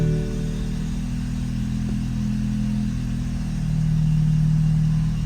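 A BMW F30 car engine runs steadily at idle after startup, a low, continuous rumble with a slight rise in pitch and loudness toward the end.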